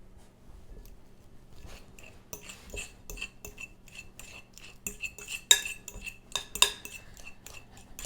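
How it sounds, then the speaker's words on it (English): Potatoes being mashed with a tablespoon of butter, close and fairly quiet: soft scraping and clinking of a utensil against the bowl, with sharper clicks near the end and no talking. "So mash up the potatoes."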